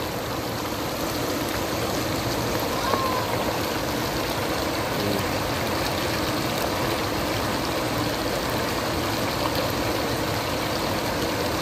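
Water streams steadily over a former road in Aurora after a typhoon, a constant, moderately quiet rushing flow with no talk over it.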